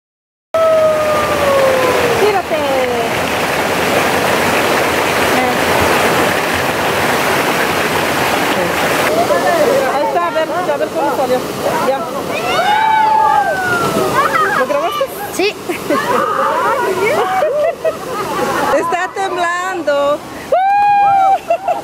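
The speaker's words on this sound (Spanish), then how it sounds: "Miren qué hermosas cascadas" Waterfall cascades near Puerto Escondido rush and slosh continuously in a loud, broad roar, with voices speaking over the water and occasional high whistling tones.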